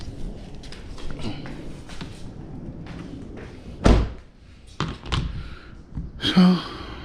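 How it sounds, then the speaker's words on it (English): A single solid thud of a car door shutting at mid-clip, with a quieter knock later, amid low background noise and faint movement. "let's close the door and see if this thing works"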